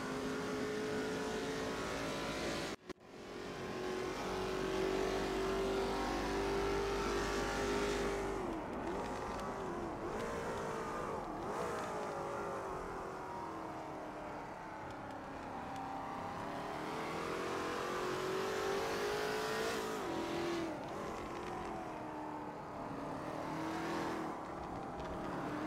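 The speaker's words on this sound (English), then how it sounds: "Can you hear those V8s in chat?" V8 ute race cars in GT Club roar continuously, engines revving and shifting as they chase each other closely, pitch rising and falling through gear changes with a brief dropout early on and no talking.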